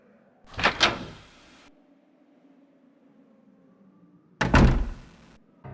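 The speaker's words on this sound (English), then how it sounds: "This short clip of a door opening is actually a loading screen" Two heavy wooden thunks from a door opening in a classic Resident Evil loading screen. Each heavy clunk rings out briefly and fades, separated by about four seconds of faint low drone, close and isolated.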